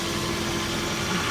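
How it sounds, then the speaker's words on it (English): Electric AC compressor running steadily in a vehicle with a suspected refrigerant or expansion valve problem, a low continuous hum with a steady tonal whine, faint and unbroken. "This is an electric compressor."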